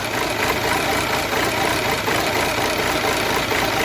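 Audi A4 engine idling unevenly with a hunting, irregular idle speed linked to a fuel pressure fault, a steady close mechanical drone filling the whole stretch with no talk.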